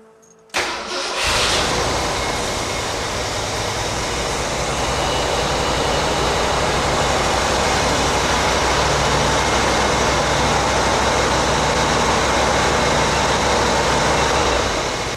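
A 1975 Ford F100 that has sat unused for a while cranks briefly, catches, and settles into a loud, steady, slightly rich idle that runs on without a break, close by.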